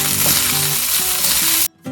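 Fried rice sizzles loudly in a hot pan over a high flame, a dense steady hiss with faint scraping as it is stirred, then an abrupt brief drop before the frying returns.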